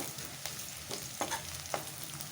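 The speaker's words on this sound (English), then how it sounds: "Now that these onions are fried brown" Onions frying golden brown in a pan for chicken tikka masala, with a constant fairly quiet sizzle and a few soft stirring scrapes.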